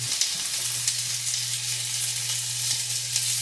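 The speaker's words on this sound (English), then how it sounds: "I think I got it sizzling a little bit too much" Steady, close sizzling of steak frying in a hot pan, a continuous crackling hiss with a low hum underneath and no talking.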